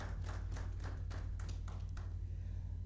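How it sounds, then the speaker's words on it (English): At an awards ceremony, a small audience claps in light, scattered bursts, faint and somewhat distant over a steady low hum. "Let's give him a warm round of applause"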